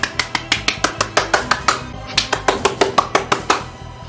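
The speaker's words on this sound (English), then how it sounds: "Clap harder." A crowd of people clapping hands in a fast, steady rhythm, sharp repeated claps close up and loud, with no talking over them.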